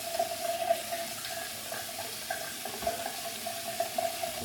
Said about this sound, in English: I'm gonna wet my face again now